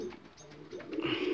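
Pigeons in a breeding loft preparing for a new clutch of eggs give soft, low cooing calls that swell toward the end, close by with no talking.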